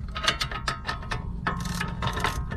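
A ratchet with an 18 millimeter socket clicks in quick bursts while tightening brake hardware on a 2005-2007 Mercedes, close-up, in rapid uneven strokes.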